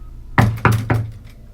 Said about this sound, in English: a jarring knock from the door made her stop